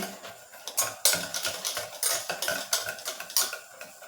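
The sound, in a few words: mixing mango tea cake batter in a bowl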